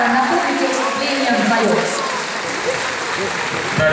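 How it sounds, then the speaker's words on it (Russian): Audience applause in a large hall after a figure skating pair's first public performance, a sustained wash of clapping with voices talking over it. "спасибо вам большое за эти аплодисменты"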